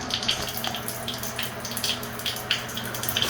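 Continuous hiss and splash of cold water flowing from a pipe into a basin in a garage, close and steady with small gurgles and drips on top.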